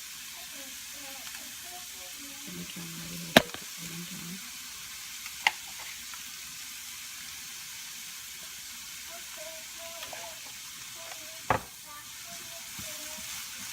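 Cauliflower, onions and scrambled eggs sizzle steadily in a pan with faint hissing, while a few sharp utensil clacks stand out as the mixture is stirred; no one speaks.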